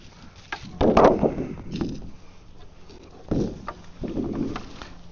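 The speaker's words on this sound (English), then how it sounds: "that's the sound of me banging this panel around" Irregular thumps, rattles and scraping knocks as a flexible solar panel is banged around come in two clusters, with quieter rustling between them, close by and fairly loud.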